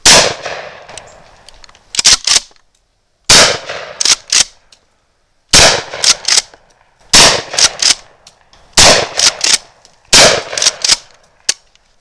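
A magazine-fed Remington 870 DM 12 gauge shotgun fires in rapid strings of sharp, loud blasts, two or three shots per burst, with short silent pauses between bursts.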